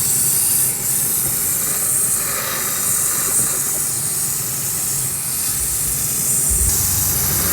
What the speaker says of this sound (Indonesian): setiap bagian dari kisi-kisi AC kita semprot